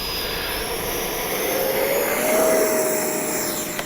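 An E-flite 70mm Viper RC model jet flies by with a steady, loud ducted-fan roar and a thin whine that rises in pitch and swells near the middle, heard alone without voices.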